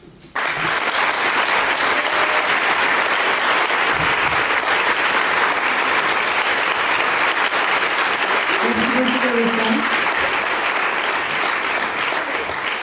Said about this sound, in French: Merci à toutes les intervenantes. Encore un applaudissement,